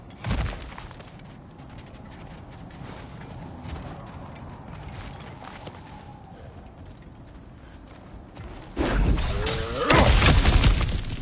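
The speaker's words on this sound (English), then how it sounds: "Ah, back to smashing through things for fun and profit." Cracked ground smashed apart in God of War Ragnarok, a quiet stretch of ambience broken by a loud crumbling, shattering burst of rock near the end.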